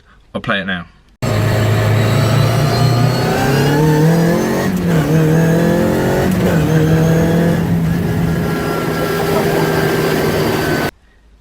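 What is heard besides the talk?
car with sequential spur cut gearbox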